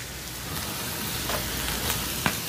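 Portobello mushrooms sizzle in a hot pan over high heat, a steady close hiss and crackle with faint pops scattered through it, and no talking.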